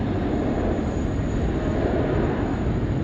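A Jetstar airliner, flight 500, lands on runway 16 right at Sydney Airport. It makes a steady, loud, broadband jet roar that continues without a break and with no voices.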